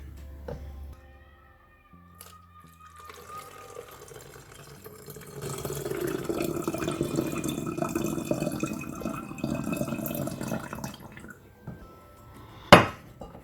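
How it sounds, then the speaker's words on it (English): Water is poured into a bottle for several seconds, a soft rushing splash, with light clinks of containers before and a sharp knock at the end. "And then we're going to pour a cup of water in."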